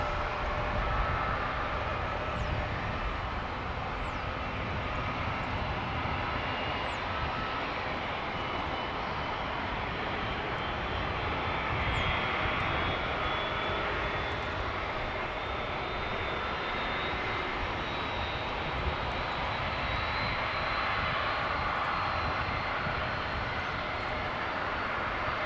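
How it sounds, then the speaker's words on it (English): A jet airliner arriving from Auckland at Dallas/Fort Worth Airport gives off a steady, broad engine roar that holds loud and constant throughout, with no voices over it. "let us greet the arriving flight from Auckland."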